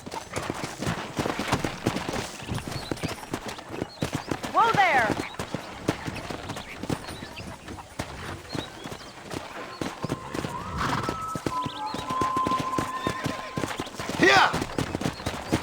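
Hoofbeats of horses being wrangled in the Western video game Red Dead Redemption, pattering clip-clop rhythm mixed with game ambience, a whinny or two and someone shouting at the animals.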